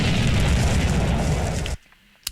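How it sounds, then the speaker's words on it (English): A loud, dense explosion sound effect roars for almost two seconds, then cuts off abruptly into near silence broken by a faint click. "There's one explosion sound."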